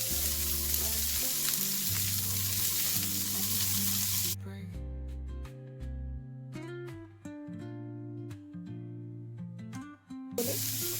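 Shredded cabbage frying in a pan for a Chinese-style paper roll filling, a loud steady sizzle that stops abruptly midway, leaving quieter crackles and stirring, then the hiss bursts back at the end.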